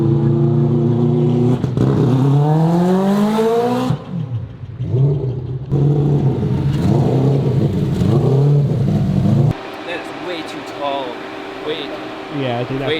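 A 4-rotor Mazda RX-7 on an AWD two-step setup launches and revs hard, its engine note sweeping up through rising harmonics in loud bursts with pauses between, while people talk over it.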